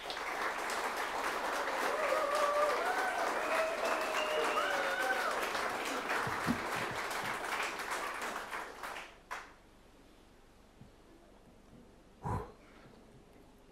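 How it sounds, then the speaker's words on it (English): An audience at a tourism corporation presentation applauds with steady, sustained clapping that fades out after about nine seconds, leaving near silence broken by a couple of faint thumps. "Can we have a big clap for this?"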